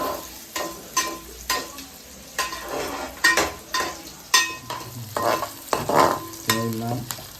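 Crabs frying in oil are stirred with a ladle, each scrape giving a sharp metallic scratch over a continuous sizzle in an irregular repeating rhythm, close up and without talk.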